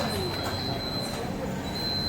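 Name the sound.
underground metro train at station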